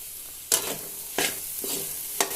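Cooked karamani (cowpeas) with grated coconut and a little coriander get mixed in a pan for sundal, a soft background sizzle punctuated by three or four crisp spoon-against-pan stirring strokes.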